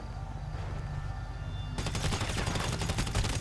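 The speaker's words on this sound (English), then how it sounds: "this player is trying to destroy my cargo with sticky bombs" Explosions and gunfire from GTA Online as another player uses sticky bombs to wreck arms-sale cargo, a quieter stretch that suddenly erupts into a dense, continuous barrage of blasts.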